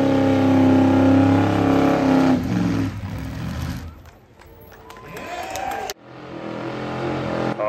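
A Chevrolet Malibu revs hard in a burnout at a car show in Haparanda, the engine roaring loud and close in sustained bursts, then dropping away before a second rising rev, with crowd noise and a voice underneath.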